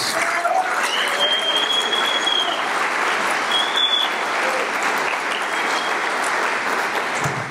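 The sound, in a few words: church congregation applauding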